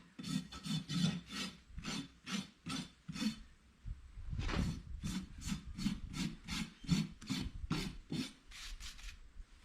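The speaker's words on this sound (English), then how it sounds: "Take the bulky bits off with your rasp first." Rasp filing dried glue on a horseshoe, a rhythmic back-and-forth scraping of quick strokes with a short pause midway, close and fairly quiet with no talk.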